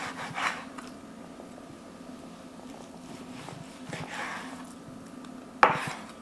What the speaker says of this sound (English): So we're just going to start off cutting some slices out of here.